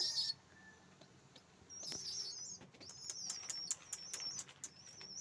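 Young Siraji pigeon chicks flap their wings in quick bursts while giving repeated high, squeaky begging peeps for food, close and fairly quiet.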